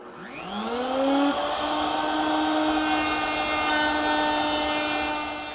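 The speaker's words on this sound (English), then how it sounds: "I've installed a 1/4 inch beading bit in the router, but I'm just using the half round portion." A router table fitted with a 1/4 inch beading bit spins up and machines a mahogany edge, rising quickly to a loud, sustained whine that holds steady before easing slightly at the end.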